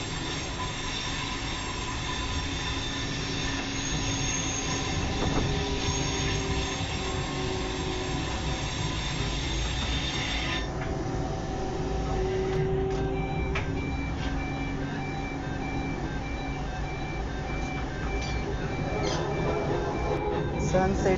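Pune metro train at Bund Garden station, a long steady rumble of rolling carriages with tonal whine and brief wheel squeals, continuous and fairly close.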